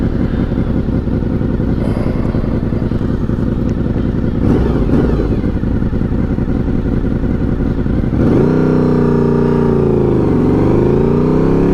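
A Yamaha VMAX motorcycle engine runs loud and close with a throaty, hot-rod style roar, a steady rumbling idle that rises into revving and shifting pitch near the end, with no talking.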